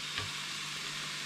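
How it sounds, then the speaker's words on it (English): Mushrooms sizzle steadily as they cook down in a pan on low heat, a close, even frying hiss with no voices. "So you can see here that the mushrooms are cooking down very nicely"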